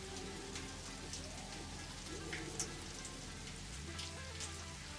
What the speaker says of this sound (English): am I hearing the water in the pipe or water raining onto the pipe?